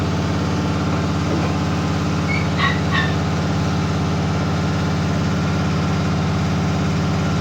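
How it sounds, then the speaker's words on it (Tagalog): A grass cutter engine and a water pump engine drone together outdoors, a loud, steady layered motor hum with a few faint higher chirps briefly rising above it. "Maingay dito, gawa ng may nagagrass cutter, nagpapatubig, sabay-sabay yung mga makina umaandar."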